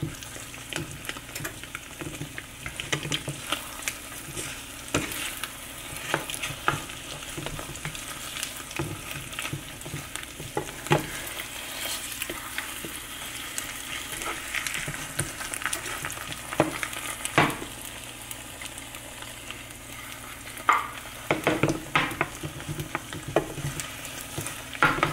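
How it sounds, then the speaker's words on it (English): An egg frying in a pan for breakfast burritos, a constant crackling sizzle broken by sharp scrapes and taps as a spoon flips and moves it, close and with no voices. "I'm gonna go ahead and flip the egg with the spoon."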